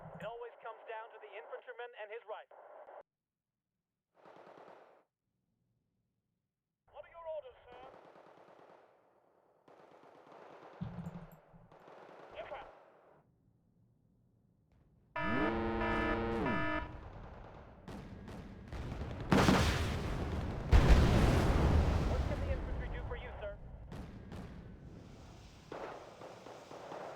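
Gunfire in the strategy game Wargame: Red Dragon, scattered bursts early on, then dense rattling machine-gun fire and heavy explosions crowding together in the second half, with someone talking intermittently underneath.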